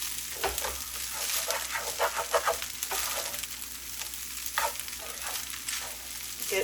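Rice sizzles and crackles as it is stir-fried with leftover chicken in a pan, with a steady frying hiss broken by repeated scraping strokes of a spatula across the bottom, close and moderately loud, no talking.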